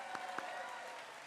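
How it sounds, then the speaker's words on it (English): Applause from the audience at a Harvard College Class of 2020 Class Day dinner, honoring a class marshal named Eric; a brief, steady wash of clapping at moderate level with a couple of sharper individual claps standing out. "And that deserves another round of applause."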